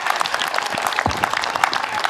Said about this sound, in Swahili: Hakuna haja ya kupiga makofi nusu